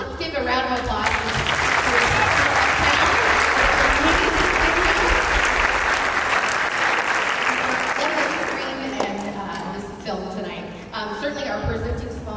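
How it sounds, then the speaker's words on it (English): A packed crowd at a film festival opening night applauds sponsors, a loud, even wash of clapping that swells and holds, then thins into scattered claps and murmuring voices near the end. "So let's give a round of applause for"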